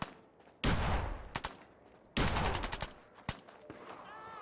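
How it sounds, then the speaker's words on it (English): Gunfire in Fallout 4: two sharp bursts of rapid shots ring out nearby, each followed by scattered single cracks and a trailing ring, with no talking over them. "Oh, somebody's shooting from back here."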